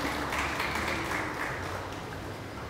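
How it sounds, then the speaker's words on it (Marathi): Applause fills the hall at an art exhibition awards ceremony, a dense, even wash of clapping from a seated audience that holds steady throughout with no clear individual claps standing out. "टाळ्या वाजत राहिल्या पाहिजे"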